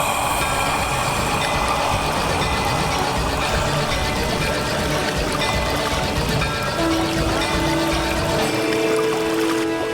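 Sound effect of Hanuman drinking the water of the whole sea in a mythological TV serial: a loud, steady, rushing roar of pouring water that fills the full ten seconds without a break.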